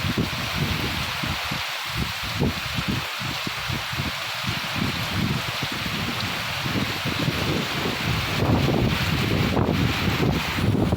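Heavy rain pours down in a dense, continuous roar, steady and loud throughout with no pauses.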